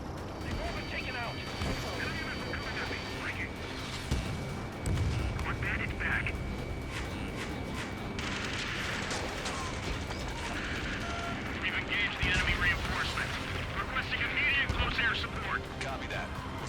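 Rapid gunfire and missile launches from fighter jets in the aerial combat game Ace Combat 7, dense bursts layered over a steady roar of engines, with a voice talking over the action throughout.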